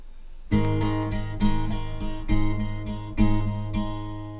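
Acoustic guitar chords strummed in a steady, lilting pattern of four groups of three strokes for a song, close and clear with ringing sustain, no voices.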